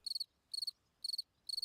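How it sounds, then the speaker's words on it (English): Male crickets singing on the ground in Portugal's mountain wildlands, four evenly spaced bursts of high, pulsing chirps with quiet gaps between, clear and fairly close with no other sounds. "male crickets try to attract females with their songs"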